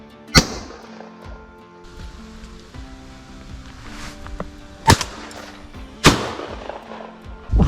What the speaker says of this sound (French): Oh, t'as fait un beau coup de pétard là, Fred.